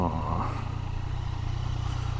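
A motorcycle engine runs with a steady low putter, revving briefly at first and then settling into an even idle close by.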